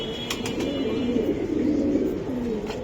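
Giribaj pigeons coo in a low, continuous murmur close by, with soft overlapping calls and a few brief clicks or rustles, and no speech over them.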